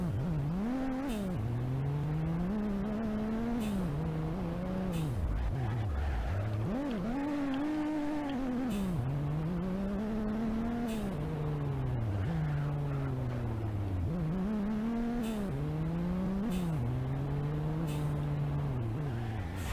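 A race car in the BeamNG.Drive driving game lapping a track, its engine rising and falling through repeated gear changes with brief tire squeals, loud and continuous throughout.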